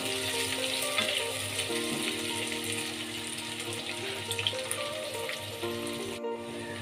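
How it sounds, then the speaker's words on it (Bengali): Sliced onions frying in oil for Kashmiri chicken masala, a steady moderate sizzle with a faint watery hiss, continuous with no talk. "পেঁয়াজগুলোকে আমি এবার সামান্য লাল লাল করে ভেজে নেব।"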